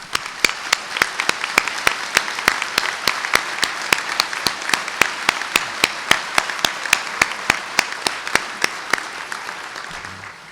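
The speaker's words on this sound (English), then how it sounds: "please stand so we can give them a round of applause" An audience at a state of the city address applauds in sustained clapping, with a strong, regular rhythmic clap standing out sharply above the crowd throughout.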